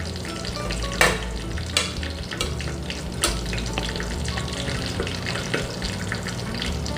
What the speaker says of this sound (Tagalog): siyang kumulo ng kumulo hanggang lumubot ang ating bunga ng maruga